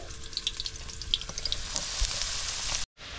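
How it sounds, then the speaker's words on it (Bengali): Potatoes frying in hot oil for a vegetarian papaya and potato curry, a steady close crackling sizzle with small pops throughout, ending abruptly in near silence. "এই দেখো আলুটা লাল লাল করে ভাজা হয়ে গেছে।"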